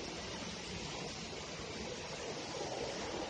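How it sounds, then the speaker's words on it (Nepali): Water pours into the canal at the intake of the Ankhu Khola hydropower scheme, a dense, unbroken roar of rushing flow that holds steady throughout with no speech. "यहाँबाट चाहिँ नहरमा पानी जान्छ"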